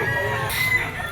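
A yellow-legged stag rooster at a Grotto fowl market lets out a short, fairly close crowing burst over low background noise, with no one talking.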